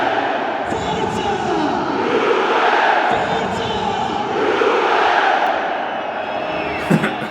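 European football fans in a stadium crowd roar and chant together in unison, a loud sustained wall of voices that swells and falls in waves throughout.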